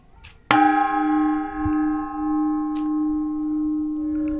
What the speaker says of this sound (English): I can't play the bells.